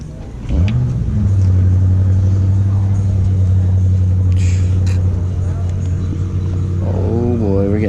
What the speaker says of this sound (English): We're getting some revs coming up.